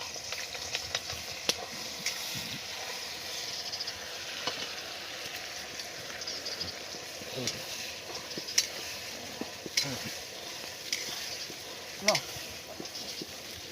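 Onion sizzles steadily in hot oil in a home kitchen while a Gujarati sev curry is cooked. The frying hiss is soft and continuous, with occasional stirring clinks and faint voices in the background.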